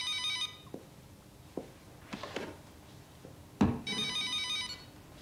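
A telephone rings in a quiet room, two bright electronic bursts separated by a pause, with a few soft knocks and movements in between.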